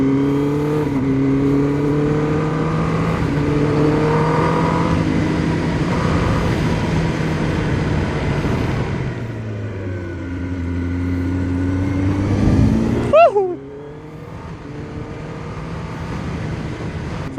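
A 2026 Kawasaki Ninja ZX-10R sportbike engine runs loud and close, holding a steady harmonic drone that dips, then climbs into a sharp, rising rev near the end before settling to a lower idle.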